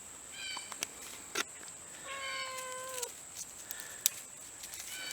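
A pet cat meows several times in a quiet indoor room while potassium permanganate powder is prepared for a chemistry fire starter, with short rising and falling calls spread across the moment, moderately close and clear.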